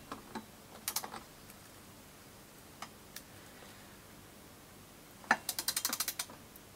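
A ratchet clicks in scattered short bursts while engine cylinder head bolts are snugged down during reassembly. A denser run of rapid clicks comes near the end. The clicks are close and there is no talk.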